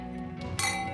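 A single bright clink of glasses touching in a toast, sharp and ringing briefly before fading, over a soft indoor background.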